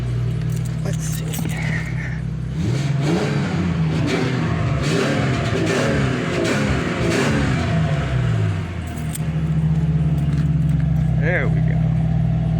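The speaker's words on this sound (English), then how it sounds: "Proper cold start today." An old vehicle from a fleet, running despite needing a new belt, cold-starts on a frosty, chilly morning: the engine catches and settles into a steady idle with some revving, while a person talks over it.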